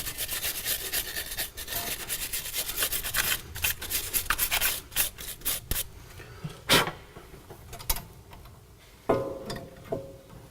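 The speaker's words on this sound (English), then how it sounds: "I'll clean the brake caliper with a metal brush" Stiff metal brush scrubbing a car brake caliper during a pad change, giving rough rasping strokes in irregular bursts up close, with a few sharper scrapes and knocks near the end.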